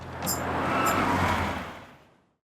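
A Rolls-Royce car rolls up in a village, its broadband road and tyre noise swelling then fading away to silence over a couple of seconds, with a faint low engine hum beneath.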